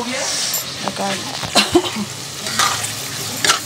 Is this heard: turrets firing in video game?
no